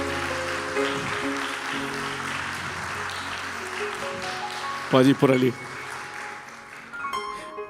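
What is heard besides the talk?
audience applause for two people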